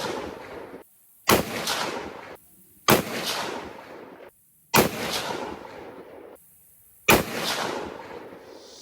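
Four suppressed rifle shots through a Dead Air Sandman X suppressor, evenly spaced about two seconds apart, each a sharp close crack followed by a short decaying echo, with near silence between them.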